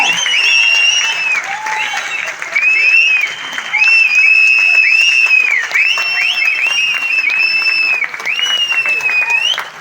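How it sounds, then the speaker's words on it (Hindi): A large crowd in a hall in Vashi claps loudly and steadily while shrill whistles pierce through repeatedly, with cheering voices mixed in. "जोरदार ताली सीटी चिल्लाना जो आता है जोरदार कर दो"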